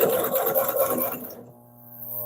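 A Consew CP206RL portable walking foot sewing machine stitches with a rapid, rhythmic mechanical chatter for about a second and a half, then stops, leaving a faint steady motor hum.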